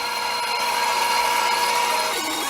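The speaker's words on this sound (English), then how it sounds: "just buffing it up with the speed polish" A segmented wooden bowl spins on a lathe as it is buffed with speed polish, giving a loud, continuous whirring hum with a rubbing friction hiss, close up and without pause.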